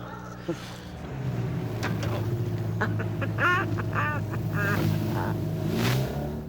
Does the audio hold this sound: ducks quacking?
yes